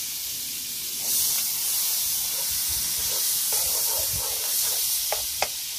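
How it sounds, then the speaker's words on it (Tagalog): Star margarine melts and sizzles softly in a pan with a little cooking oil before sautéing, a steady hiss that swells slightly, with a couple of small utensil clicks near the end. "At lalagay po tayo ng margarine o mantikilla. Star margarine. Ayan, gigisa po muna tayo."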